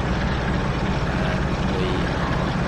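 Simulated Class 45 diesel locomotive in Train Sim World 3 on the Midland Main Line, running at full throttle: a loud, steady, dense engine roar with a deep low rumble that holds unbroken throughout, with no talk over it.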